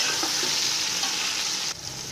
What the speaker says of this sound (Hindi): अब थोड़ी देर इन्हें फ्राई करेंगे।